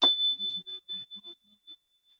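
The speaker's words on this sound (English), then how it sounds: "little clearing bell." A small clearing bell rings once and is left to fade, its bright sustained tone decaying over about two seconds, with faint low plinking notes beneath and no talking.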